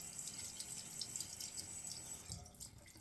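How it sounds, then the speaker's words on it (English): A tap runs quietly while a boar-bristle shaving brush is rinsed of lather, giving a faint, steady rush of water with light splashing throughout. "Still plenty of lather in my brush. I'll wash it out a little"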